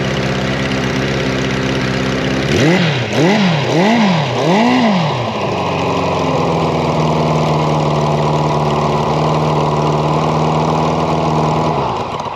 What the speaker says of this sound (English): So that's the fast idle.